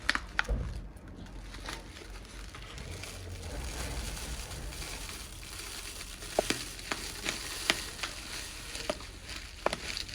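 Rosemary boils in water on a stove with a steady, bubbling hiss, broken by occasional louder pops and clicks throughout.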